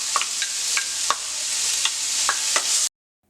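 Two small chopped onions, a teaspoon of chopped ginger and two green chilies sizzle loudly in hot oil for a samosa filling. A spoon clacks against the pan in repeated stirring strokes before the sound cuts off abruptly.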